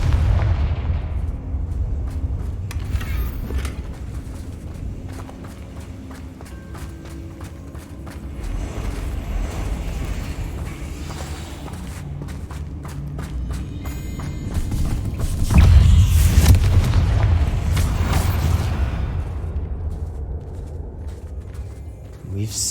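Confringo spells go off in Hogwarts Legacy, firing repeated booming blasts and crackling impacts that build into a heavy, rumbling burst of explosions near the middle, set among ongoing combat noise.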